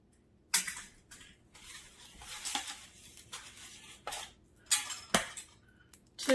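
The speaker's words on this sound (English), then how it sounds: "I'm going to tap the first egg." An egg is tapped against the edge of a bowl while making peppermint brownies, giving a few sharp, close cracks and clicks separated by quiet kitchen handling sounds.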